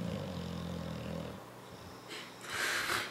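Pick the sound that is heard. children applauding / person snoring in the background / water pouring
person snoring in the background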